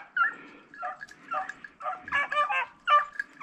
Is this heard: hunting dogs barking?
yes